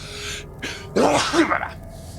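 A man sneezes during a casual gaming chat, one sharp burst after a short intake, close and loud, with no talk over it.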